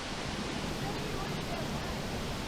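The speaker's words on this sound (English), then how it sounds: "It's really loud, and there's a really thick spray of water shooting at you." Loud wind and a thick spray of water blast steadily behind a waterfall on a trail, a dense, unbroken roar of rushing water and gusting air close to the listener.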